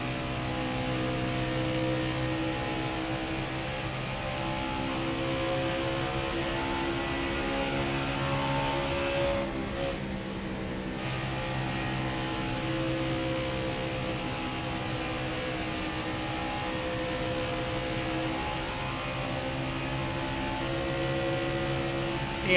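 Race car engine from NASCAR Heat 5 at Las Vegas, a steady loud drone with harmonic bands that holds throughout, briefly dipping near the middle before resuming at full strength.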